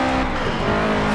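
Car engine in the racing video game Forza Horizon 4, a loud steady drone with strong harmonic bands that holds throughout the short stretch, with faint tire noise, alone and with no talking.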